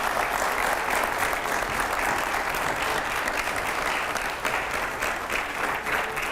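A studio audience on an Indian TV talk show applauds before a rapid fire round, a steady, even wash of many hands clapping at moderate level throughout, with no voices on top.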